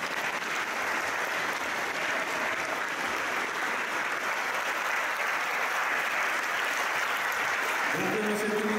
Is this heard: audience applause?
yes